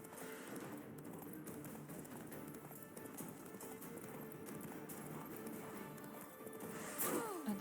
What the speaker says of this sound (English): I'm doing my very best to ride as fast as I can.